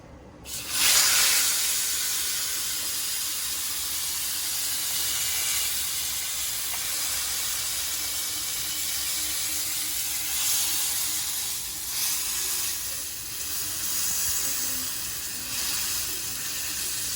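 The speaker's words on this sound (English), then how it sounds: "So we're searing it now." A tomahawk steak seared on a grill rack after reverse-cooking in the oven. A loud hiss flares at the start, then settles into a steady, close sizzle with slight swells, and no one speaks.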